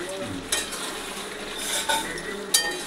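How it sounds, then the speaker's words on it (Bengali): Chicken meat cooking with potatoes in an uncovered pan gives a steady soft sizzle, broken by three brief metallic clinks of a utensil against the pan. "এই মাংস রান্না হচ্ছে।"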